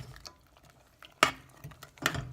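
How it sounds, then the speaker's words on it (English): Homemade cranberry sauce stirred in a pot, with two sharp spoon scrapes and knocks against the pot amid quieter wet shuffling, close and without talk. "Yeah, just a nice stir."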